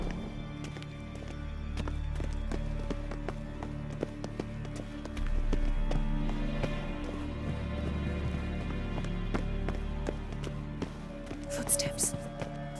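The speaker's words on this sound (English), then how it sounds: "Footsteps." Footsteps of characters walking through a castle in The Witcher 3, steady taps running under hushed voices and game ambience, with a brief brighter clatter near the end.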